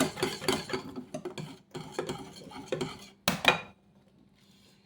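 Eggs are whisked into cheesecake batter, giving quick clattering taps of a whisk against a bowl in irregular bursts, close and moderately loud, then falling quiet near the end.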